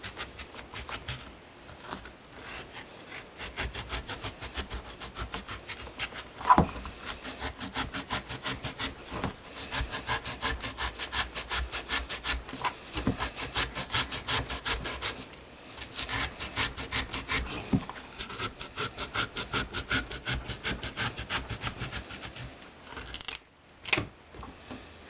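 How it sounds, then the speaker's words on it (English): A small hand saw cuts pumpkin flesh flat, a rapid series of close, soft rasping strokes at a steady rhythm with a couple of brief louder scrapes, and no voices. "a lot of times I'll use one of these little saws and just kind of make this flat"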